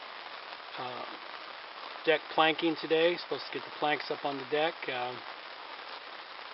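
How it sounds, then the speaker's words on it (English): Heavy rain falls steadily outdoors beside a deck under construction, a soft continuous hiss that runs under a man's close, clear talking throughout. "We're not going to be doing that because it's raining way too hard."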